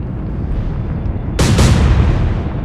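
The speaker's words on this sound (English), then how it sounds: "what the Germans have fired there is a star shell that's illuminated the whole area" A naval gun fires a star shell in the Atlantic Fleet video game. It lands as a sudden loud boom with a quick double crack over a constant low rumble of sea and engine noise, and no one talks.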